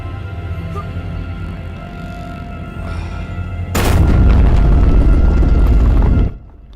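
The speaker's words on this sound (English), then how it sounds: "The explosion disables the force field generator." A loud rumbling explosion bursts suddenly in the Space Quest 3 video game, a sustained roar lasting a few seconds over a quieter electronic backdrop, then cutting off abruptly.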